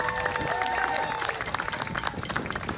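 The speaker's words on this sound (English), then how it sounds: "give a round of applause for Nina as well" A festival crowd at the Blame My Roots music festival claps for a staff member, a dense patter of many hands heard from a middle distance, with some voices mixed in.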